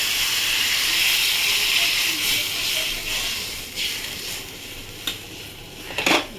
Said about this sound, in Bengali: আমি জল দিয়ে দিই